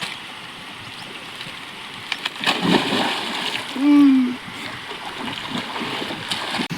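A person jumps into cold water, a single short splash and churning in the middle of a quiet outdoor scene, with a voice heard briefly.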